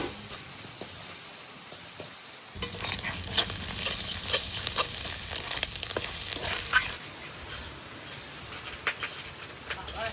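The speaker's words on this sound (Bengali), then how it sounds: "ডিমগুলো পটপট পটপট করে ফুটছে" Eggs and onion frying in oil give off a steady sizzling hiss with scattered pops, which swells suddenly partway through and then settles back to a quieter crackle.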